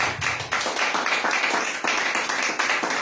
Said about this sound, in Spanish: Dale el aplauso a Dios